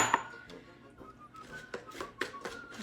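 Metal whisk clinking against a bowl while brown sugar is stirred into homemade dairy-free pumpkin pie filling, a series of light, irregular taps and scrapes close by, with no talking.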